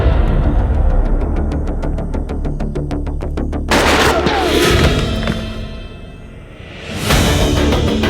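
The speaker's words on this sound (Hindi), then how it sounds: "गोली क्यों मारी?" A burst of rapid gunfire crackles, then loud booming shots and whooshing blasts follow, dense and close.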